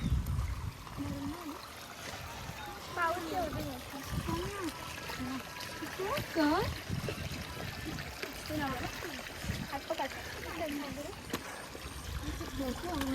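Faint trickling water in a rocky stream under people talking outdoors, with occasional small splashes.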